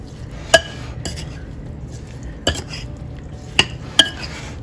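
A spoon stirring a blackberry and sugar mixture in a mixing bowl, with a few sharp clinks against the bowl spaced irregularly over a quiet background.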